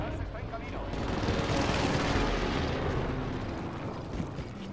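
Dense, rumbling barrage of video game air strike explosions and gunfire in Call of Duty Rebirth Island, swelling and fading, heavy low booms blending into a continuous roar.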